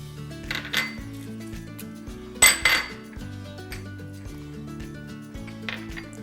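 Cauliflower pieces go into a pot for blanching: one clattering clank of the pot and lid near the middle, with soft handling noises before and after, over steady background music and no talk.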